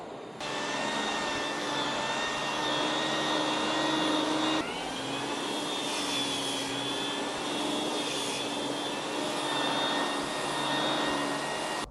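Countertop polisher running with a 400 grit pad, a steady loud whine with sustained tones that hold for the whole stretch with one brief shift midway, no voices.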